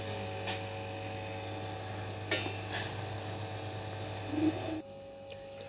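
Masala being stirred and mixed into food in a pan: soft scraping and sizzling strokes over a steady electrical hum, with a few brief louder clinks, fairly close and moderately quiet.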